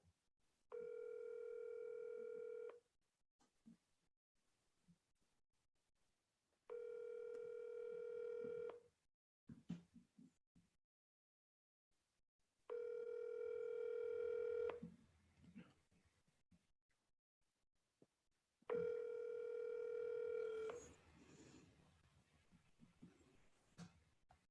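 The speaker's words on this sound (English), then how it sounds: "I'm going to make this dial" A telephone gives a steady dial tone in four long, loud bursts with quiet gaps between them while a call is placed, and faint clicks and brief keypad or handling noises fill the pauses.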